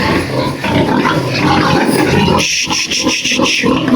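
Dirty pigs, pregnant sows, grunt and snuffle loudly and close, a dense, continuous stream of rough grunts with a few sharper squeals.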